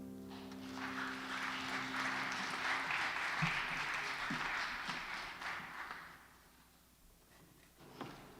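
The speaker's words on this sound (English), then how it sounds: "just another round of applause" Applause from a congregation at a Sunday church service after a sung Ave Maria, a steady dense wash of clapping that fades out after about six seconds, with a few stray claps near the end.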